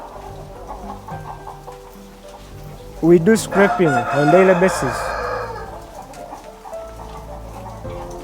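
Chickens cluck and squawk in a poultry house with a plastic-floored cage system, a loud burst of excited calls in the middle of the clip while someone talks before and through it.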